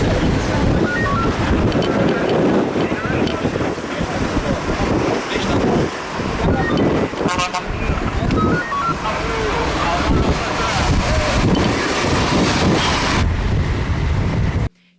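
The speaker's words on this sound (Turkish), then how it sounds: "Bir süre sonra etkisini arttıran rüzgar yerini kum fırtınasına bıraktı." Strong, roaring wind of a sandstorm in Aksaray, Turkey, buffets the microphone nonstop, a dense rumbling gust noise with some faint voices buried underneath.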